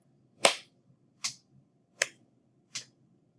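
Four sharp, evenly spaced percussive hits from a clap-stomp rhythm exercise in a music lesson, each one close and crisp with quiet gaps between them.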